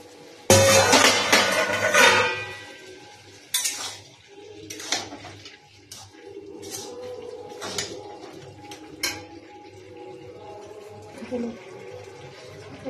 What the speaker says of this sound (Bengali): এখন ঢাকনাটা উঠিয়ে দিচ্ছি, কি হচ্ছে